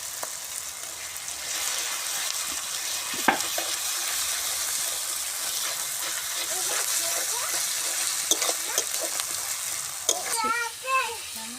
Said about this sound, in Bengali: এবার আদা দিচ্ছি।